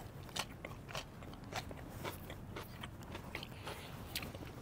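Crisp crunching bites of grilled winter salad with endive and tomatoes, a run of close, sharp crackly chews repeating at an uneven rhythm, with no talk over them.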